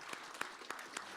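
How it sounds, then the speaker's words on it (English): Audience applause at a panel event on California agriculture and the energy transition, faint and sparse, with a few distinct claps standing out from a soft background. "Let's give Connie Conway another round of applause."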